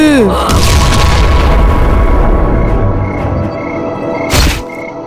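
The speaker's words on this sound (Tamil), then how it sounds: "அது எப்படிமா பேய் காத்துல வெடிச்சிச்சு?" A cartoon blast as firecracker powder fixed to a kite string goes off, a loud booming rumble that fills the scene and fades, followed by a second sharp burst near the end.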